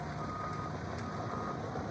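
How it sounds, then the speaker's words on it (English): A loaded dump truck delivering rock for a farm entrance in the Pahoa area of Hawaii backs up, its reversing beeper sounding faintly over a steady, close engine rumble. "This truck's coming down, and man, he's tearing up my whole farm."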